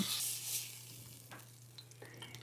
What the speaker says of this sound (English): I'm gonna get a good, nice brown sear on each side.